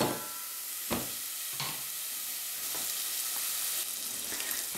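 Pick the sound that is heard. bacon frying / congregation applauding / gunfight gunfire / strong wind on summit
bacon frying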